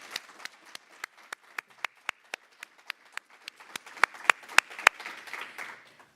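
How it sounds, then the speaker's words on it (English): Sparse applause for a youth team at an internet governance forum, individual claps ringing out one by one in an uneven rhythm, thickening slightly near the end with a few more hands joining. "Please join me in a very loud applause for the YDLC team"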